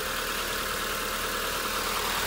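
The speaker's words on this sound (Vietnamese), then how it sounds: "Máy nổ rất là êm, không hề có dụng rung lắc gì." A 2005 Mitsubishi Grandis car engine idling steadily with a smooth, even hum and light hiss, heard up close with no talking.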